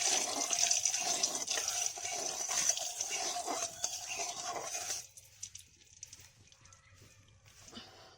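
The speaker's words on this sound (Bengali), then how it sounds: "হালকাভাবে ধুয়ে নেব মাছগুলো।" Hilsa fish are rinsed under running tap water, a close, steady splashing gush that stops abruptly about two-thirds through and leaves only faint residual sounds.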